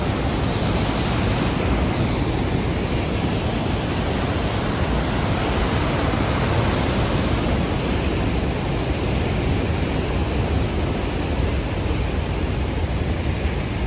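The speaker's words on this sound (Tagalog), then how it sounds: "Yan ang San Juan Falls." Sunwapta Falls pouring down, a dense, steady roar of rushing water that stays loud and unbroken from start to finish, with no voices.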